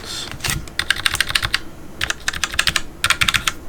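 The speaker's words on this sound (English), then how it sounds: "These are pretty low-profile keycaps on the low-profile switches." Typing on an HP 430 programmable wireless keypad fitted with low-profile keycaps on low-profile switches: close, crisp clicky keystrokes in three quick bursts with short pauses between, no talking.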